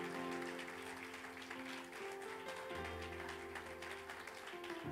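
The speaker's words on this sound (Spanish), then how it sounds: "Dele un fuerte aplauso al Señor Jesús si usted lo cree." A congregation applauds at a church service, a steady dense wash of clapping filling the room with a sustained music or organ tone underneath.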